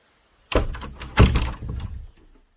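Solid wood closet doors are handled indoors, giving two close, solid thunks with a short rattle and knock trailing after each, and no talking.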